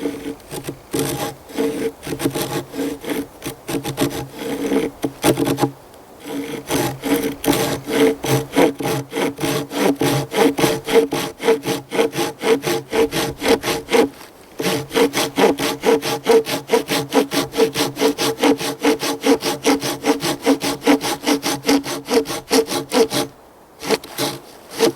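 A hand saw cuts into a wooden log to form a platform for a bow drill, with steady, rapid back-and-forth rasping strokes, close and loud, broken by two brief pauses before the sawing resumes.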